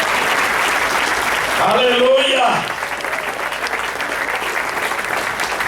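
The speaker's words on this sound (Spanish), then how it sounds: "Dale un aplauso al Señor" Loud congregational applause at a church service fills the space, continuous and dense, while a voice calls out over it partway through.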